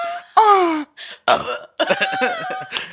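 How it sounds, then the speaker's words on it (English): A loud, drawn-out belch rumbles close by, followed by throaty vocal sounds and short laughing noises from people in a casual podcast conversation. "You moaned and then belched."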